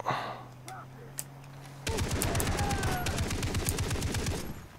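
Rapid mounted machine-gun fire in the video game Far Cry 3, a dense, loud sustained burst of repeated shots that erupts after a quieter stretch and continues steadily to the end.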